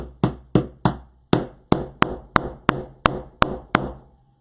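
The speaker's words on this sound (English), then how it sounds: "My little hammer." Eleven sharp, crisp taps of a small hammer while making a wreath, in a fairly even rhythm, close by, with a short gap after the first three.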